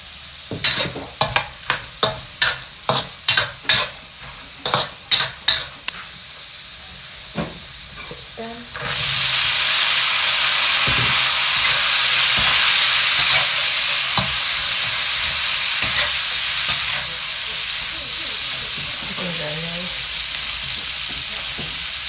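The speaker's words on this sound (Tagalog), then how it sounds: "Stir fry garlic stem with" Garlic stems stir-fried in cooking oil in a pan, opening with a quick run of sharp scraping stirs, then settling into a loud, steady hiss of sizzling that holds to the end with occasional clinks.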